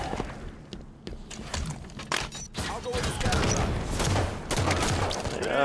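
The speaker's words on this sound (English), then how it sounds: "It's a binary rifle, Pete." Binary rifle fire in the video game Halo 5 during a multiplayer match, sharp repeated shots and thuds mixed with other game effects, with players talking over the action.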